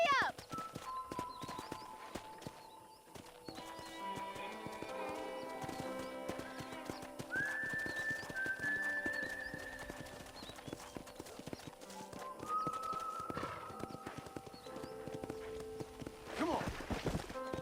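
Horse hooves clip-clop at a steady riding pace in Red Dead Redemption 2, with a whinny partway through. Someone talks over the hooves, and game music and ambience play underneath.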